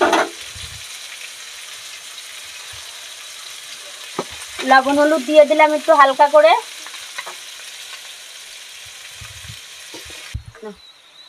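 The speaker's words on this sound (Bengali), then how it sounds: "তো আমার আলুটা ভাজা হোক" Potatoes frying in oil in a home kitchen give a steady, close sizzle that runs the whole time, with someone speaking briefly over it midway.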